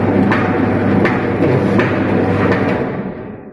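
A lathe in a fitter's workshop runs with its lead screw turning, making a loud, steady mechanical rumble with faint regular knocks that then fades away toward the end.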